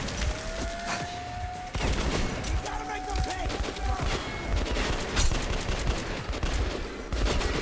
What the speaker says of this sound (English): they weren't kidding when they said this was a powerful little pocket pistol